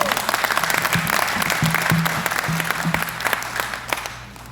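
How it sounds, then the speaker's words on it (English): A conference audience at a Rotary district gathering breaks into sustained, dense applause that stays loud for several seconds before thinning out toward the end, with a voice briefly audible beneath the clapping. "Please applaud, because this is so important."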